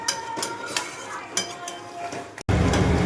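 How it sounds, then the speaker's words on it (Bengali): A spoon scrapes and clatters against a metal pot while chicken is stirred, with several sharp clinks over a low cooking hiss, before a sudden lid-lifting clunk and louder frying sizzle. "আবার একটুখানি চাপাটা খুলে আর একটু কষে দিচ্ছি আর একটু নেড়ে ছেড়ে দিই"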